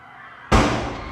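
A single sudden gunshot-like bang in a film scene of a school shooting, loud and abrupt after a quiet stretch, with a sustained ringing decay that trails off.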